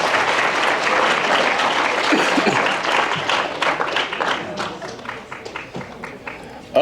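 A crowd at a high school athletic banquet applauds loudly for a tennis team, the clapping thinning out toward the end, with some voices mixed in.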